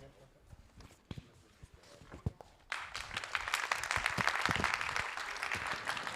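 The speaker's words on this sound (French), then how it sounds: "On applaudit avant, on ne sait jamais ce qui va se passer après, donc on prend toujours des applaudissements avant" A theatre audience breaks into applause for a Christmas show, starting after scattered claps, thumps and murmuring, then swelling into sustained, moderately loud clapping that continues to the end.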